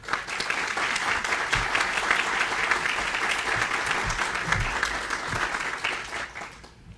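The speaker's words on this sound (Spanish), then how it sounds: "para quien les pido un fuerte aplauso" A conference audience at an electoral tribunal event in Guadalajara breaks into loud, dense applause, a sustained roar of many hands clapping together that holds steady for several seconds before tapering off.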